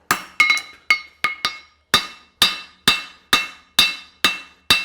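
Hammer striking a hot horseshoe heel cork on an anvil, a run of about thirteen sharp, ringing metallic blows, close and loud, with a quick double tap at first, then a steady rhythm of roughly two strikes per second.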